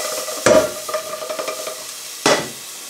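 Chicken pieces browning in a hot pan for poulet Gaston-Gérard sizzle steadily as they are stirred, with two loud bursts of scraping and spattering and lighter stirring clatter between them. No one speaks.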